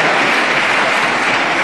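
Applause in a parliament chamber, a dense, loud, even clapping from a large crowd that holds steady throughout.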